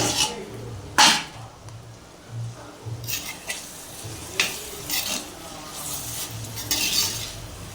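Eggplant fries in oil in a pan for a spiced stir-fry. A soft sizzle runs throughout, broken by several sharp clinks and scrapes as a utensil stirs against the vessel.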